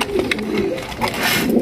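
Pigeons coo close by at a bustling pigeon market, soft throaty calls repeating over steady crowd murmur.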